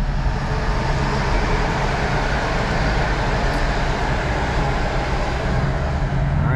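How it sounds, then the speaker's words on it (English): A train rolls past in a continuous, loud low rumble and clatter that holds steady throughout, with no voices. "Let's wait for this train to go by."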